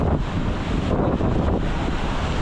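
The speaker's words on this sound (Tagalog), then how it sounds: "Habagat ang hangin ngayon, habagat." Strong southwest monsoon wind buffets the microphone over the wash of waves at sea, a continuous roaring gust with no voices.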